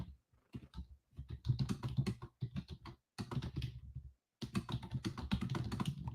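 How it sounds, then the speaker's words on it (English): Typing on a computer keyboard in a day-trading setup, quiet rapid clusters of key clicks in irregular bursts with short pauses between them, close and faint. "Here, I'm going to type this in our group."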